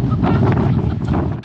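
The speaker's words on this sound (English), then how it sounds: "Gusts of wind." Strong wind gusting over an open outdoor spot near a gully, a brief, loud, low rumbling buffet battering the microphone throughout.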